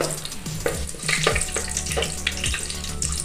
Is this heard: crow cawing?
no